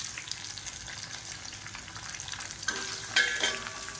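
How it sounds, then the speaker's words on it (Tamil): Chopped shallots and crushed garlic fry in a pan for a village-style coriander thokku, a steady close sizzle with a few sharper bursts and faint clinks toward the end. "இந்த வெங்காயம் பூண்டு நல்லா அப்படியே மொறு மொறுன்னு வதங்கணும்"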